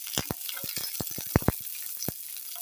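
Green chilies and onion sauté in a pan for peas pulao, a quick run of sharp scraping strokes and taps over a light sizzling hiss, without speech.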